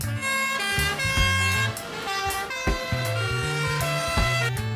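A toy fire truck plays its electronic siren, a loud wavering tone with repeating harmonic melody steps and short breaks, heard up close with no one speaking.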